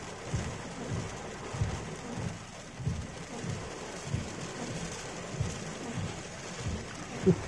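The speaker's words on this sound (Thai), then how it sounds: "ฝนมาอย่างแรงเลยอะทั้งลมทั้งฝนเลยครับ" Steady heavy rain and wind hitting a moving vehicle, with a rhythmic low thumping pulse beneath it, gusting sound and no voices, fairly close and moderately loud.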